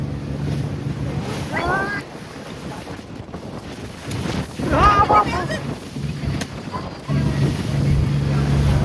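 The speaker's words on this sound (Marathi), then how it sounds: "फुल हवा, फुल जोरामध्ये हवा सुरू झालेली आहे" Strong wind buffets a boat at sea on an island-hopping tour near Krabi, Thailand, a loud continuous roar and rumble over the microphone with faint voices rising briefly through it.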